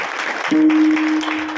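An audience claps for a mridang accompanist at a kirtan, a short loud burst of dense applause close by.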